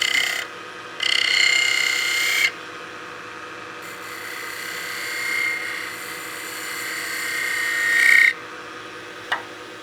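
A snowman oil candle spun on a wood lathe and cut with a spindle gouge: a steady motor hum beneath bursts of scraping, whining cutting that rise and stop in separate passes, close by.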